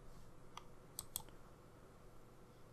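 A few faint, sharp clicks of a computer mouse, two close together, over quiet room noise.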